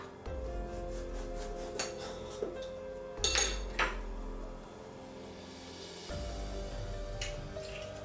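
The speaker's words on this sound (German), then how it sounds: "Und jetzt kommen die Tomaten dran. Da schneiden wir auch den Kopf ab." A knife slices the tops off tomatoes on a cutting board, giving several separate hard knocks and clinks spread over a few seconds, close and fairly quiet, with no talking.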